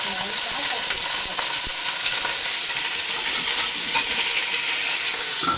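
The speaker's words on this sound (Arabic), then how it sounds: "بحط معلقه السمنه وبنزل بيها باللحمه تاخد صدمه" Meat sears in hot ghee in a pot, a loud, dense, unbroken crackling sizzle with occasional sharper pops, close up and without talk.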